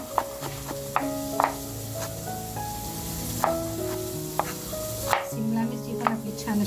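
A knife chops vegetables in a home kitchen, giving sharp, irregular taps against the board over a constant background sizzle of fish frying, with some music-like tones underneath.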